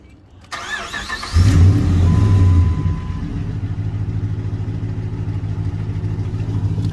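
A Dodge Ram pickup truck engine with about 145,000 miles cranks and fires up with a revving surge, then settles into a steady, loud idle nearby.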